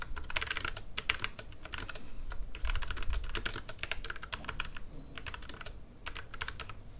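Typing on a Logitech MX Mechanical Mini wireless mechanical keyboard, recorded close to the mic; a steady stream of soft, fairly quiet key clicks in quick bursts with brief pauses, no talking.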